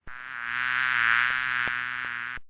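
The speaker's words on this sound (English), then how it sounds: "Bee." A bee buzzes in a single steady drone lasting a couple of seconds. The tone is bright and harmonically rich, swells gently in the middle, then stops abruptly. The buzz is close and clear, with no talking.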